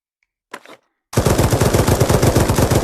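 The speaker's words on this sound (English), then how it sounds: "So let's try. I'm going to shoot up." Gunfire from a VR zombie shooting game on an Oculus Quest 2: a short click or burst, a brief pause, then a loud, sustained machine-gun stream of rapid shots in a steady rhythm.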